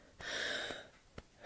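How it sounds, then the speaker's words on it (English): A slow, deep inhale followed by a long exhale, close and soft, with a brief sharper breath at the end, during a guided relaxation exercise. "take a deep breath in and a deep breath out"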